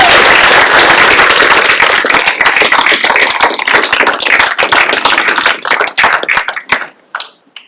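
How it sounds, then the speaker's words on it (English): An audience at a youth apprenticeship signing day bursts into loud, dense applause for a student, with sustained clapping that thins into scattered claps and fades out near the end. "a huge round of applause for Cameron Brown"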